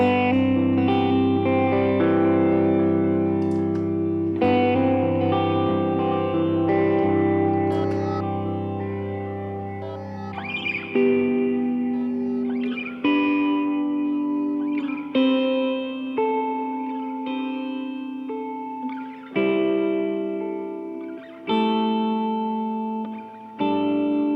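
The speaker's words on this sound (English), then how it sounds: "now I can throw the cave reverb on it and make it huge" An electric guitar through a guitar modeler plays sustained chords and single notes drenched in a huge, cavernous cave reverb, each note ringing out and blurring into the next.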